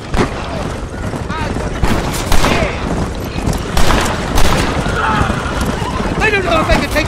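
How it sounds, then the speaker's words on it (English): Gunfire in a Red Dead Redemption shootout, scattered shots heard under heavy talk, galloping hooves and horse whinnies in a loud, busy scene. "They're shooting right at me!"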